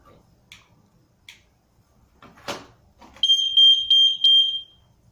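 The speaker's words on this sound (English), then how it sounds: "Smoke sensor." A smoke sensor from a DIY RF home security kit sounds its alarm: a loud, piercing electronic tone in a few quick pulses, following some soft clicks and handling noises.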